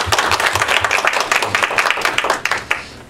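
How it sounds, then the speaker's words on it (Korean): A church congregation claps in welcome for newly arrived members during a service, producing dense, steady applause with sharp individual claps for about three seconds. "우리 환영의 박수 한번."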